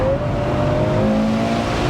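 A Ferrari 812 GTS V12 engine accelerates hard, giving a loud, continuous rising roar close by with no pause across the short stretch.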